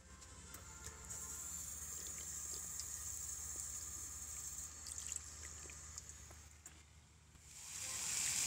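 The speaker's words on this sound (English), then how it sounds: "I'm going to utilize this water fountain." A park water fountain by a pond in Brushy Creek Lake Park, Cedar Park, Texas, runs as a faint continuous trickle with scattered splashes and outdoor ambience, then swells louder at the end.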